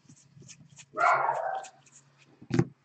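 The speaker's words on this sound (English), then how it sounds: "Sorry about the dogs, guys." Dogs bark indoors in a short burst of loud barks, with softer yips and whimpers around them, slightly distant and with no talk over them.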